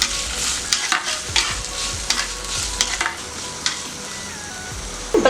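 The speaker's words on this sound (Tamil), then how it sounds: "இப்போ தக்காளியும் வெங்காயமும் எண்ணெயிலேயே நல்லா வதக்கிட்டோம்." Tomatoes and onions sauté in oil in a pan for a spinach and dal mash, a steady close sizzle broken by repeated scraping stirs of a spoon.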